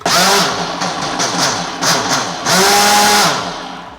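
A blender motor whirs steadily and loudly while mixing a protein shake, its pitch rising and dipping slightly as it churns, with no voices over it.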